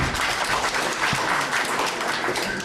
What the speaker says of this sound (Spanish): Vamos a recibir con un aplauso a Anja por el apoyo a la publicación.